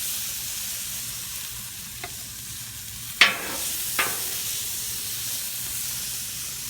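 Lo mein noodles sizzle on a Blackstone griddle with a steady close hiss, broken by a couple of sharp metal clinks of a spatula partway through, with no voices.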